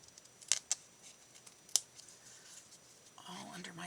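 Scissors snipping paper for a journal page: a few sharp, quiet clicks and snips spaced apart, close but faint, followed by soft rustling.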